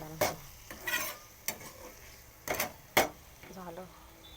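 Masala with chutney is roasted in a pan for brinjal bharit: soft, intermittent spoon scrapes and short bursts over a faint low sizzle, with a voice speaking briefly near the end.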